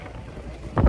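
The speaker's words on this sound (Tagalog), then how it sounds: "Oh, so windy." Wind buffets the microphone during a boat trip, a low steady rumble that swells into a louder gust at the end of the brief moment.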